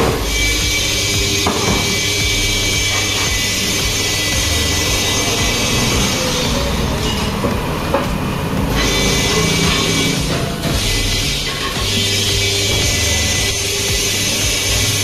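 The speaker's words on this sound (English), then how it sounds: "There you see that's the wheel balancing, and it will tell if it needs any weight" A wheel balancing machine at a tyre shop spins a car tyre for a Nissan Micra, giving a loud steady whirring drone with high whine and occasional clanks, without talk.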